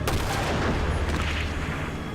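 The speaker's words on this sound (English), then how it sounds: "And of course he shoots him with his super hand cannon main Python gun." A Colt Python revolver shot rings out in a TV drama scene, a single loud close boom with a rumbling low tail that fades over about two seconds.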